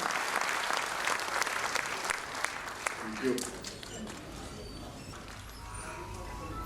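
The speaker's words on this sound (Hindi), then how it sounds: "जोरदार तालियों से स्वागत करें AR जोशी जी का।" Applause from an audience at a Dr B R Ambedkar 125th anniversary event, welcoming A.R. Joshi; moderate clapping fills the first three seconds, then fades into a quieter, murmuring room.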